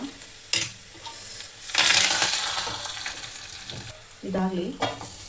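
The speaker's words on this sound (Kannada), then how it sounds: "ಇವಾಗ ಜಜ್ಜಿಟ್ಕೊಂಡಿರುವಂಥ ಬೆಳ್ಳುಳ್ಳಿ ಹಾಕ್ತೀನಿ, ಸಾಸಿವೆ, ಸ್ವಲ್ಪ ಜೀರಿಗೆ, ಹಿಂಗು" Crushed garlic, mustard seeds, cumin and asafoetida hit hot oil, giving a sharp clatter followed by a bright burst of sizzling. Softer spattering continues, then a second crackling flare comes near the end.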